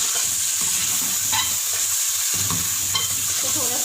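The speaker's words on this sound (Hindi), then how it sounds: "थोड़ा सा भून लेते हैं।" Chicken coated in a blended paste fries in a pan, a dense, loud and steady sizzle with a few light scrapes of stirring.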